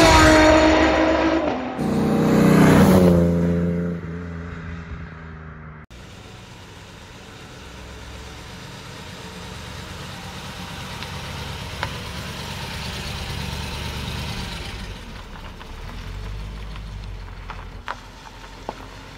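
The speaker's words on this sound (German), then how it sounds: "dann wollen wir mal starten mit dem Auto" A 1971 Mercedes 280 SE 3.5 Cabriolet with its roof up cranks briefly, catches with a loud rev, then settles into a steady, even idle close by with no one talking.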